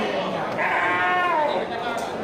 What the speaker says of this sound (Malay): Ya Bang Ruslan dan Bang Heri banyak menyediakan domba dan kambing jantan ya, persiapan untuk domba kurban.